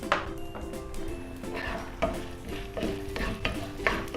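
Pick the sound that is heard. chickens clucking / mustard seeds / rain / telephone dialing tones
mustard seeds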